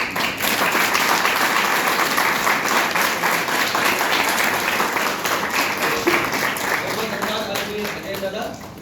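An audience at a drama workshop gives sustained, loud, dense applause that fills the whole stretch evenly and thins slightly near the end.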